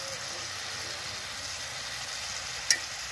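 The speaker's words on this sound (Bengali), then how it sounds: "মশলাগুলোকে ভালো করে কষে নেব" Spices with chilli powder and chopped tomato fry and get stirred in a pan for a potato dum. The sizzle is faint and steady, with a single sharp clink near the end.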